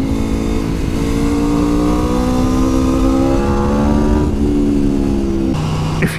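A 2021 Aprilia RSV4 Factory sports bike engine revs hard and climbs steadily through the gears, loud and close, with a brief dip and shift near the end and no talk.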